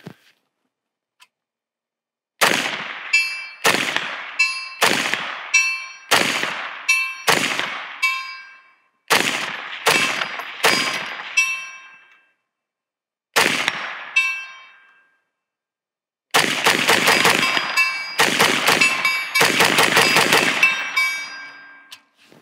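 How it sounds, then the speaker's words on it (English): Rifle shots ringing off steel targets at a distant range when checking a red dot zero: a steady series of sharp metallic clangs with ringing decays, single hits early, then a rapid cluster of impacts near the end. "We're gonna back up and get some shots on that to confirm that this translates to a much longer distance."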